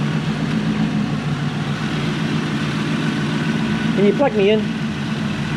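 A Toyota Celsior (Lexus LS400) engine idles steadily up close, a smooth low hum running throughout while someone speaks briefly near the end.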